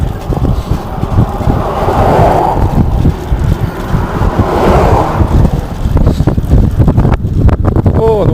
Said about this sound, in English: Oh, the wind just picked up there, through there.